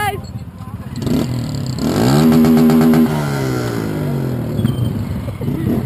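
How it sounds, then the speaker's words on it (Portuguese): A motorcycle revs hard on a street, the engine climbing to a loud rising whine and then easing off into a falling tone, close by, with people talking around it. "Chama, que tem até moto aí, gente."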